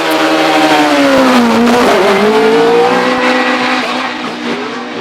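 A 4-litre methanol-fuelled Gould Judd V8 hillclimb race car of over 500 horsepower accelerates hard at a British championship hillclimb, its loud, close engine note climbing steadily in pitch, alone with no talk.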